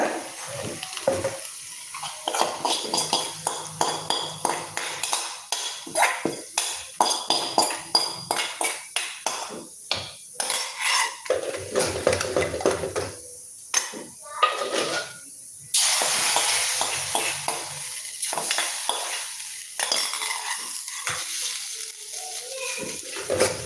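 Spinach and lentils being mashed with a wooden churner in a clay pot, a long string of rapid, rhythmic scraping and knocking strokes, close and fairly loud, with a steady hiss breaking in partway through.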